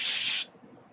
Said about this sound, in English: And now I'm going to spray